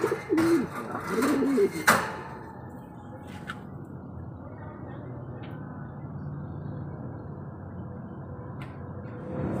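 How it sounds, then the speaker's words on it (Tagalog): Pet pigeons coo softly in a low, throaty burst during the opening seconds, then fade into a quiet, steady background hiss with only faint scattered sounds. "Ihimas muna tayo ng mga ibon natin."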